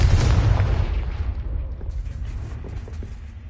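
Bombarda and Confringo spell blasts in the Hogwarts Legacy game: a loud, heavy explosion rumbling at the start, then a decaying boom and crackle fading over a few seconds.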